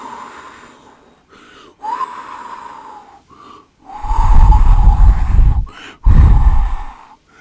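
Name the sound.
voice imitating wind blowing through pine trees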